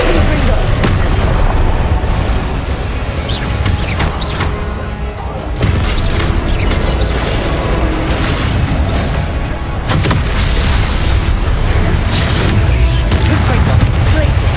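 Loud, dense spell blasts from the video game Hogwarts Legacy (ice, fire and explosive curses) boom and crash almost without pause, with a voice shouting over the chaotic barrage.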